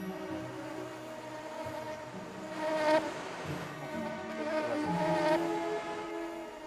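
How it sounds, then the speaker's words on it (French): A steady, dense buzzing of many flies close by, a continuous droning hum that swells slightly in the middle and toward the end. "Je suis envahie de mouches"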